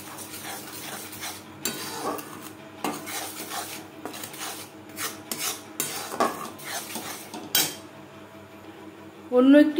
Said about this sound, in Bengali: বেসন মেশাতে থাকবো আর নাড়তে থাকবো।